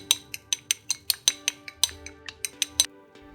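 Eggs cracked and beaten with a utensil in a bowl for garlic scrambled eggs, a quick run of about fifteen sharp clinks against the bowl, close and steady, with no talking.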